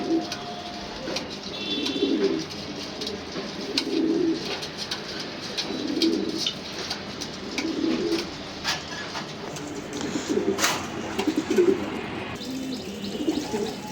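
Racing pigeons coo at a home loft, a deep rolling coo repeating about every two seconds, close and clear, with scattered chirps and no talking.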